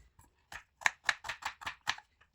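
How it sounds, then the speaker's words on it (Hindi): Knife chopping onion, green chili and capsicum on a board: about seven sharp, evenly spaced cuts in a quick steady rhythm, close and clear with no talking. "अब यहाँ पे इनकी करेंगे कटिंग"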